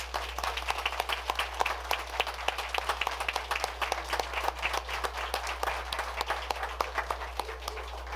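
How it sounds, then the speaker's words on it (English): Audience at a Hampton city council regular meeting claps in a steady round of applause, a dense patter of many hands sustained throughout without talk. "Let's give her a big round of applause."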